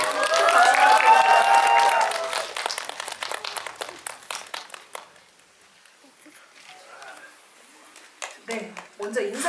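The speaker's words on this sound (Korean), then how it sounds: "박수 부탁드릴게요" Applause and cheering from a theater audience at a Korean film talk event for the war movie Noryang, loud at first, then thinning into scattered claps and murmurs with a brief swell near the end.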